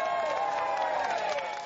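Roadside crowd cheering and applauding at a Tour de France stage on Bastille Day, a steady dense wash of clapping and voices that stays loud throughout and eases slightly at the end.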